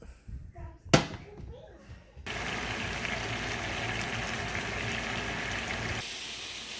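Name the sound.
burger meat cooking on a hot stove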